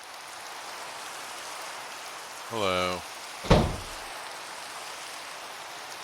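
Rain falls in Minecraft as a steady, even hiss throughout, with a brief spoken greeting and a single sharp knock partway through.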